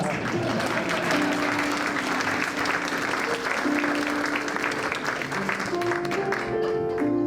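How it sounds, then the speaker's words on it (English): Sustained applause from a live concert audience at a community arts center, a dense wash of clapping filling the room for several seconds while music tones faintly ring underneath. "I just need a standing ovation"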